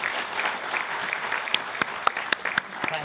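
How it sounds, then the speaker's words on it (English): Audience applause at a national business excellence awards ceremony in Vigyan Bhavan, New Delhi, a soft, steady patter of clapping, with a few sharper, closer claps standing out over the crowd. "Can we have a huge round of applause for Dr."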